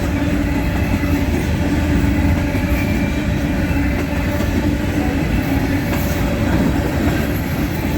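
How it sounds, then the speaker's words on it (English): A Southern Railway train with three engines runs along a levee in flood-hit Carroll and Chariton County, Missouri. It makes a close, continuous rumble and clatter of wheels on the rails, with faint squeals, and no breaks throughout. "Might as well get the train."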